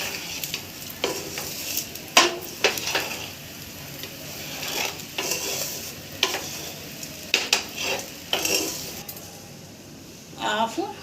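Jeera rice coated in masala is stir-fried in a pan, with a spatula scraping and clinking in repeated strokes over a soft, steady sizzle.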